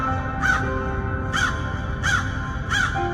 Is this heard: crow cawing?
yes